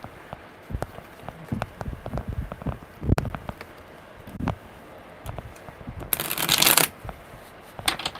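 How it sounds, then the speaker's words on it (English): Tarot cards are riffled and shuffled by hand in irregular bursts of crisp flicks and slaps, ending in a loud, dense riffle near the close, heard up close with no talking. "one more good shuffle"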